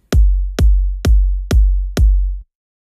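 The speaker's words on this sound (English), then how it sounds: "We've got 2 kick drums." Two layered electronic kick drums from a trance remix, one adding high-end punch, strike together five times in a steady beat, each with a crisp attack and long heavy low boom, loud with nothing else.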